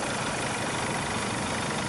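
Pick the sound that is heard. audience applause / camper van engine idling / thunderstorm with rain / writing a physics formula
camper van engine idling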